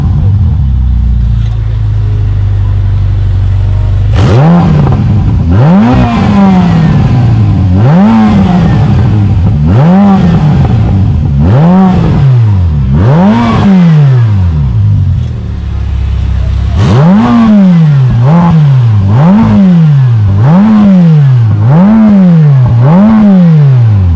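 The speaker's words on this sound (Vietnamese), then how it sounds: "bây giờ thì mình sẽ có một chút tiếng bô để cho các bạn nghe các bạn nhé" A Ferrari F8 Spider's exhaust barks through a series of sharp, loud revs, rising and falling in quick repeated bursts with a short pause midway, close and dominating.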